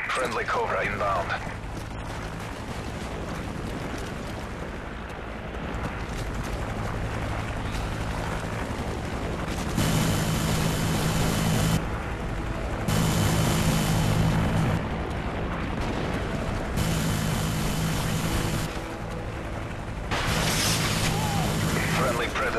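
Cobra attack helicopter arriving in Modern Warfare 3, a sustained loud rotor and engine roar with heavy low thumping. It surges in repeated pulses over battlefield noise and game effects.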